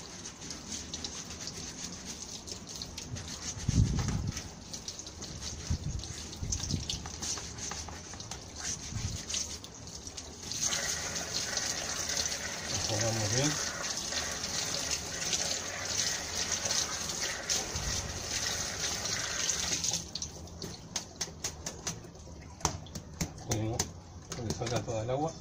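Water runs and splashes steadily as an air conditioner filter is washed by hand, a constant wet rushing with a brief louder burst partway through, while a person talks over it.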